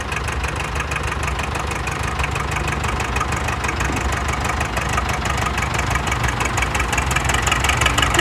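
A Ford 77T5 tractor engine runs at a steady idle nearby, with a loud, even rhythmic knocking chug that continues without change.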